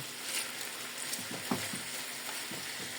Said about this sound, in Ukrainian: Додаємо сюди гарбуз. І хай тушиться гарбуз до готовності.